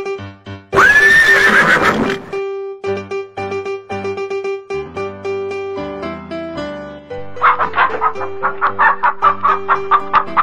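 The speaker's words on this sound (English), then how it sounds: "Horse." A horse whinnies loudly with a long shaky neigh, followed by farmyard sounds and steady rhythmic music with clucking fowl later.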